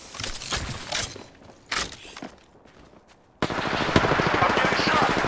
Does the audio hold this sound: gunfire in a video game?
yes